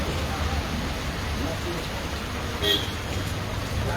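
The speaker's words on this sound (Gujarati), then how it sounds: "હાલ અત્યારે થોડો વધારે વરસાદ આવી રહ્યો છે" Unseasonal post-Diwali rain falls steadily over the Halvad countryside as a dense, even hiss, with a brief faint vehicle horn partway through.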